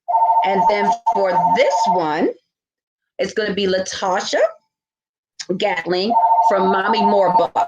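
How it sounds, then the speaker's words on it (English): A telephone rings in the background beneath a woman's steady speech, its tone faint and partly masked by the talking. "sorry about the phone in the background"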